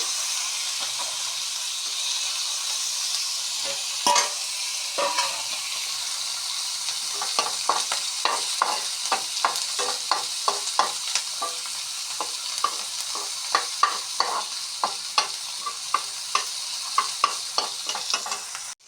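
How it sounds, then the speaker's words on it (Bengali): Dried fish (chandana shutki) frying with onions in a pan gives a steady, close sizzle and hiss, broken by frequent sharp clicks and scrapes of stirring that grow busier toward the end. "দিয়ে দিচ্ছি শুটকি মাছগুলা পেঁয়াজের সঙ্গে ভাজা হবে"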